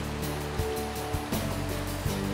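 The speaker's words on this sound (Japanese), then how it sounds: "後ろに流れてる川が" A river flows steadily in the background outdoors, a constant broad wash of water with a few soft bumps and knocks close by.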